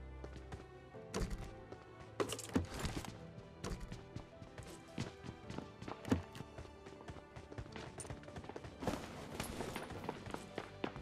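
Enemy footsteps in the PUBG Mobile Lite video game, a run of irregular thuds and scuffs mixed with other game noises, fairly faint and continuous throughout.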